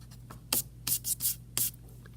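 Pencil drawing straight lines on paper for a perspective sketch, a few short scratchy strokes close up in a quiet room over a low steady hum.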